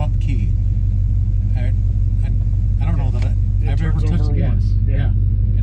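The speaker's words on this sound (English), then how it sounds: "I just kind of bump the starter and the car fires right up" A 1955 Chevrolet 210 street rod idles with a deep, steady rumble close by, while people talk over the engine throughout.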